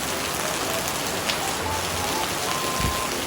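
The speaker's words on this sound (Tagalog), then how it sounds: "happy rain here" Heavy rain pours down steadily onto surfaces, a dense, loud, close hiss with occasional heavier drops and no voices.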